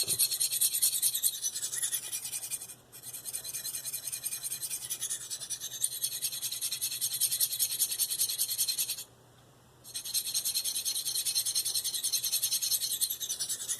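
A D2-steel Eafengrow CH3001 knife drawn over a Spyderco medium bench stone, giving steady close rasping strokes in a quick regular rhythm, broken by two short pauses.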